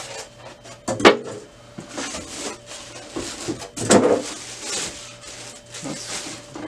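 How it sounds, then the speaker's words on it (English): Styrofoam packing pieces pulled off a Canon Pixma TS202 printer during unboxing, giving scattered squeaks, rubs and bumps with two louder knocks in a quiet room. "And take off the styrofoam packaging."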